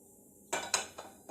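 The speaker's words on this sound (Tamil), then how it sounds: "கடாய் எடுத்து வச்சிடலாம்." A metal kadai is lifted and set down on a stovetop while kolukattai is being made, giving a few sharp close clanks spaced over about a second.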